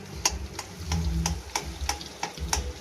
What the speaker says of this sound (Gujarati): હવે જે આપણે પ્યુરી તૈયાર કરી હતી તે તેલમાં નાખીશું.